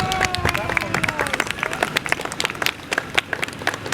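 An audience claps for Blek, a police K-9 dog, at a Ligonier Township Police demonstration: a short burst of scattered hand claps mixed with crowd murmur and a voice at the start.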